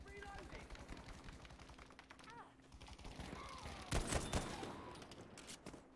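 Distant enemy gunfire in Battlefield 5, a quick rattle of shots at low level with a sharper, louder burst midway.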